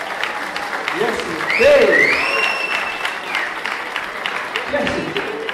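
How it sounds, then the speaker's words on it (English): An audience at an award evening applauds Sophie Anderson, steady clapping and whoops through the whole stretch, with a voice speaking briefly over it. "a round of applause for the beautiful Sophie Anderson"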